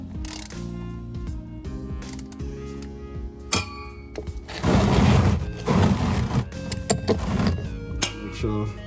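A ratchet loosens the transfer case fill plug on a Porsche Cayenne during a fluid change, giving repeated close mechanical clicking and grinding with louder ratcheting bursts toward the end, heard alone.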